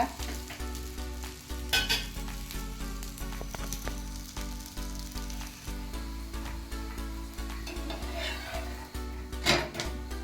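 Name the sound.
stirring dill greens while they cook in a pan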